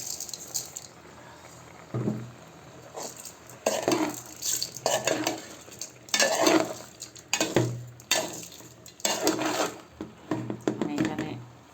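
A spoon scrapes and knocks around a pot as rice is stirred into sautéed winter vegetables for khichuri. Bursts of clattering stir strokes come in an uneven rhythm with a soft sizzle underneath.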